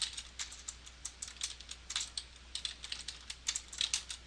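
Rapid keystrokes on a computer keyboard while filling in a timesheet, a close, quiet run of irregular clicks and taps with brief pauses, no voices.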